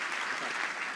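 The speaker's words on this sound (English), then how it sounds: "Please give him a round of applause." A live audience at a spirituality talk applauds for Justin in a short, dense burst of clapping that stays loud and even throughout.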